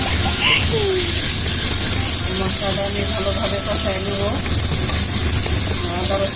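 Hand-ground spice paste for fish curry fries in hot oil with a loud, continuous hiss and sizzle, punctuated by occasional stirring scrapes, close and steady throughout.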